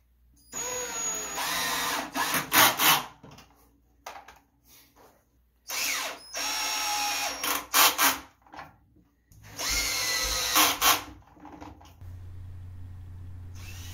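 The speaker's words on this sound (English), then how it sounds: "I'm pre-drilling my holes here to hold the rest of my framework together." A cordless drill pre-drilling holes in wood framework for model railroad benchwork cabinets, three loud whirring bursts of a few seconds each separated by pauses, close up, with no talking.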